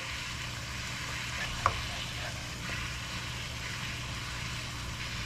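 Meat for Philly cheese steak frying in a large frying pan, a steady soft sizzle held at an even level throughout, with one brief faint clink partway through.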